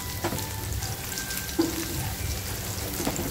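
Onions frying gently in hot oil in a home kitchen for an Afghani egg masala, a steady soft sizzle and crackle with scattered pops, fairly close and continuous throughout, with no talking.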